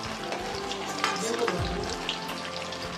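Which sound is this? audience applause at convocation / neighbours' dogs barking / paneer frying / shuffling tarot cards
paneer frying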